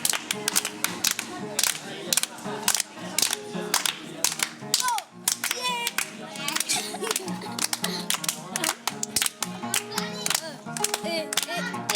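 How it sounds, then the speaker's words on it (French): Children clapping their hands loudly in a steady, sharp rhythm, close and busy, with children's voices chattering and calling among the claps. "Tapez la main. Fort."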